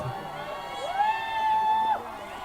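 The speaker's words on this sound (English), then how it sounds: "you can hear the roar from the crowd" A crowd at a cricket league final roars. One sustained, rising shout or whistle rings clearly above a constant background of cheering for about a second.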